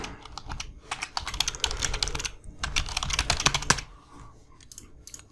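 Fingers type on a computer keyboard in quick, close bursts of crisp clicks, pausing briefly midway and again near the end, with no talking.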